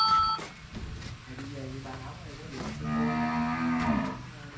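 A pair of young Sindhi-cross cows at a cattle sale in Ba Tri low loudly, with a long drawn-out moo dominating the second half while people talk nearby.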